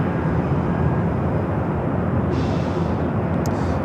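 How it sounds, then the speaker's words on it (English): A Japan Airlines Boeing 787-9 Dreamliner in oneworld livery departing LAX, a loud broadband jet roar sustained and steady throughout, with no other sounds. "Japan Airlines Flight 61, this flight heading to Tokyo Narita, the One World livery"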